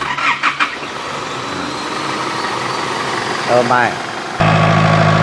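An Isuzu D-Max pickup engine cranks and catches, then settles into a loud, steady idle close by, with a short burst of speech partway through.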